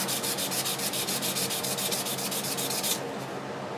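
An old welding rod is rubbed briskly to shine it up, producing a close, steady scraping swish with a quick back-and-forth rhythm that stops near the end.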